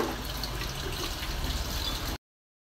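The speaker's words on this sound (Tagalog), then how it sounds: "nalagyan ko na ng tubig, nilublob ko na yung ating tanglad" Water is poured into a cooking pot with lemongrass to make broth for chicken tinola, a soft steady splashing stream that runs for about two seconds and then stops abruptly, with no talking.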